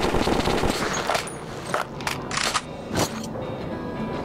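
Regular fire from a gun in the video game Metro 2033 comes as a rapid burst of shots, then several separate sharp reports spaced apart, loud and close, with no talk.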